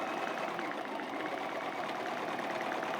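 A sewing machine stitching while a quilt is guided through it by hand, running as a steady, continuous, close mechanical hum and rapid needle patter without pause or speech.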